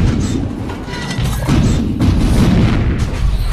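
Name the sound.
French cannons firing in battle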